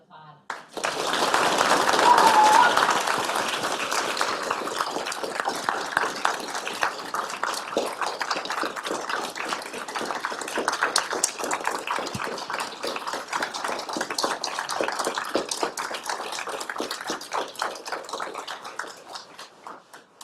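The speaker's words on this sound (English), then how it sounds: "Now you can applaud" An audience applauds at a Duluth Public Schools board listening session: dense clapping from many hands swells quickly, stays strong and steady for about twenty seconds, then tapers away.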